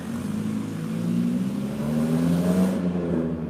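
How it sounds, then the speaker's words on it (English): A noisy car revving as it drives along a foggy city street, a loud rising engine drone that builds and holds close by for several seconds before the high end drops away, with no talking. "that car's noisy"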